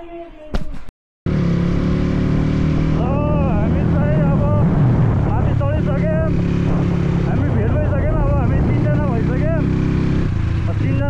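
Dirt bike on new tyres climbs a mountain road in Palpa, Nepal, engine droning steadily and close with wind buffeting the microphone, while a rider talks over it; a brief dropout near the start.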